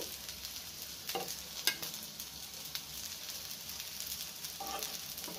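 Prawn head fritters frying in oil, a soft, steady crackling sizzle heard faintly up close, with a few brief louder pops and scrapes along the way.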